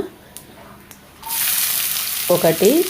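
Whole garam masala spices (cardamom, shahjeera, mace, marathi moggu) and bay leaf sizzle loudly in hot oil after a quiet start, with steady crackling frying and a voice speaking briefly near the end.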